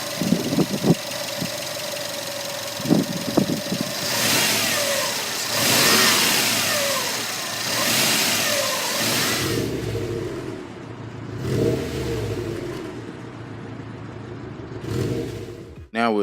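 2.5-liter turbocharged engine of a 2018 Subaru WRX STI starts and idles, then revs up several times in rising swells with a rumbling exhaust, heard close; a few clicks and knocks come early on.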